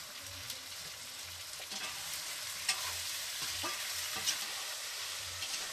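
Buffalo meat stir-fries in seasoning in a Nepali home kitchen, a quiet, continuous sizzle broken by occasional scraping stirs of the utensil, with no voices.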